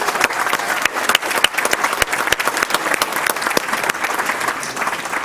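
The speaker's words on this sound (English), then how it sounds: "let's give them one more round of applause." An audience at a school board meeting claps in sustained, dense applause, loud and close, continuing evenly without letup.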